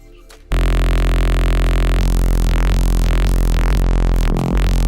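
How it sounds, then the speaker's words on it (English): A synth tone runs through a notch filter with distortion added behind it: a loud, buzzing, harmonically dense drone that begins abruptly, then sweeps in repeating rising and falling whooshes as the notch moves. "what happens if I add some distortion behind that?"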